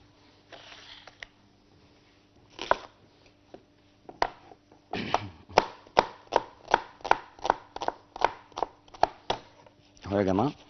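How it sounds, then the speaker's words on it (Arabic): Onion chopped with a knife on a cutting board: a few scattered cuts, then a steady run of crisp, evenly spaced knocks, close and fairly loud, with no talking. "يلا بقى هبدا ايه افرم بصلايه كده"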